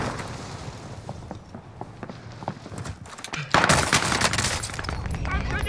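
Gunfire in Call of Duty: Modern Warfare on Rebirth Island bursts in rapid cracks, with a louder close volley midway, over muffled footsteps and game ambience.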